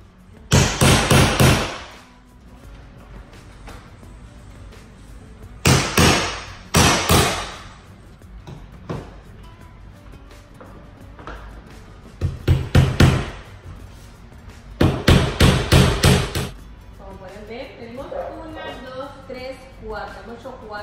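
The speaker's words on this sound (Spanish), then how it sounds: "Vamos a martillar acá." Nails are hammered by hand into a board and batten wall in repeated bursts of sharp, loud strikes, several quick blows per group with pauses between, while people talk in Spanish.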